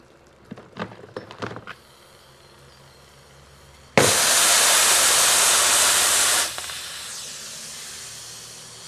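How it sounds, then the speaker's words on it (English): Liquid gas boiling and hissing out of a cartridge pierced inside a zombie skull prop: a sudden loud, broad hiss bursts in after a few sharp knocks, holds steady for about two and a half seconds, then drops to a softer lingering hiss. "Can you hear it boiling?"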